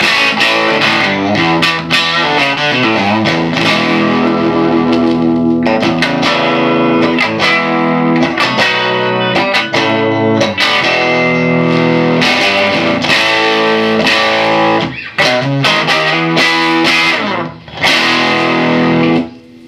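Electric guitar played through a vintage Fender amp with an original 10-inch speaker and heavy, wet reverb, strummed chords and picked notes ringing out loud, warm and tubby.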